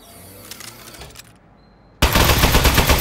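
Turret gunfire in the Aperture Desk Job video game, a sudden loud, dense rapid-fire burst that starts abruptly after a brief quiet and continues steadily to the end.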